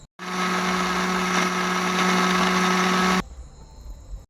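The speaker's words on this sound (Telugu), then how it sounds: "మిక్సీ పట్టుకొని కొబ్బరి పాలు తీసుకోవాలి" A mixer grinder grinding coconut whirs loudly and steadily for about three seconds with a strong motor hum, then cuts off abruptly, leaving faint rattling.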